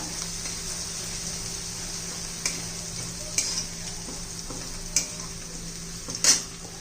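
Ginger and chili sautéing in oil, a soft continuous sizzle with a few clicks of a spoon against the pan.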